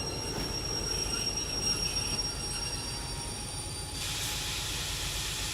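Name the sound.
train braking in video game Derail Valley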